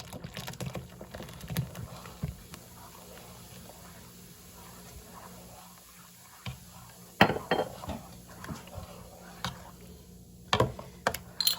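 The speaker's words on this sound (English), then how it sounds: "Let me incorporate the Malta properly into the mix." Malt drink is stirred into sweet potato punch. A quiet scene carries a few sparse clinks of a utensil against the container, with longer gaps of soft background between them.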